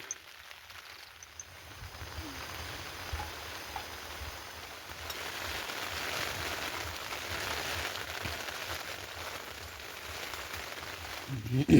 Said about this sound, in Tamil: நல்ல மேலே வந்தாலும் ஃபுல் மழையாக பெய்யுது.